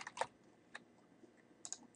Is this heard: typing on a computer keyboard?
yes